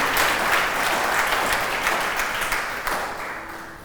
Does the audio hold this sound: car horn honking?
no